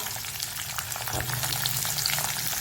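Onion, ginger and green chili fry in hot oil in a pan for breakfast upma, a loud, dense, continuous sizzle with faint stirring, close by and with no talking.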